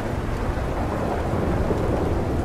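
Steady heavy rain with a deep thunder rumble in a Red Dead Redemption 2 game scene, a loud continuous wash of downpour filling the whole stretch with no voices.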